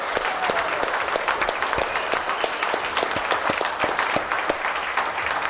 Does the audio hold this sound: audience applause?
yes